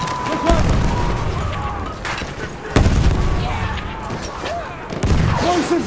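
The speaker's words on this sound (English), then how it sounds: "Grenade out, watch it!" Battlefield 1 battle sounds: several heavy booms and bursts of gunfire sound close by, with sharp blasts near the start, middle and end over a constant roar of combat.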